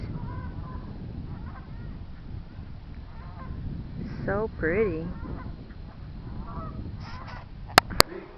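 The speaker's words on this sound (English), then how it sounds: "Can you hear the geese?" Distant geese honk in a short series of calls over steady outdoor background noise, with a person briefly speaking nearby and a couple of sharp clicks.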